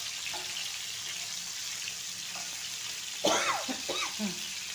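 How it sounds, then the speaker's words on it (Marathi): Paneer frying in oil produces a faint, steady sizzling hiss that continues throughout, and a voice briefly speaks near the end. "आता हे ना टाकून द्यायचं तेल आणि त्याच्यामध्ये हे पनीर तळायला टाकायचं."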